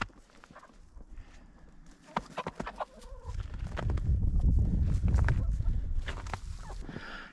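Hens cluck and squawk in short bursts in winter, fairly close, over a rising rustle of movement and shuffling in the middle.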